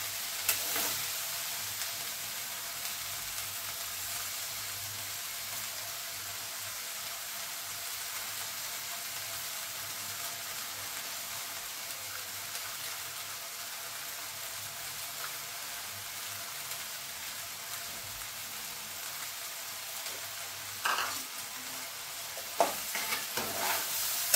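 Mixed vegetables fry in a pan with a continuous soft sizzle while being stirred, the scraping of the utensil growing a little louder and more clattery near the end.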